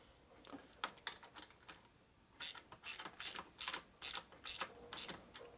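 A nut is tightened on a 1947 Harley-Davidson EL knucklehead 74ci motor with a ratcheting tool, a few soft clicks followed by a steady run of about eight louder, evenly spaced ratchet strokes close by.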